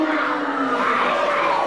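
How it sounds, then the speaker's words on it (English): A wrestling crowd at an independent pro show jeers loudly and steadily, a dense wall of massed voices with no clear breaks. "The crowd is hating it right now."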